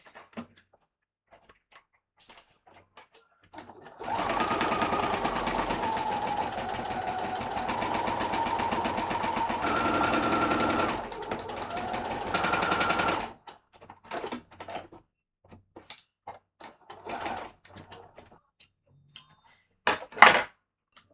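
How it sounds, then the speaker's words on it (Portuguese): A home sewing machine runs steadily for about nine seconds while sewing a straight seam, with a brief change in speed near the end, then stops, followed by scattered handling clicks and rustles. "aí é uma costura reta"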